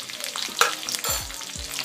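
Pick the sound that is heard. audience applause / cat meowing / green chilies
green chilies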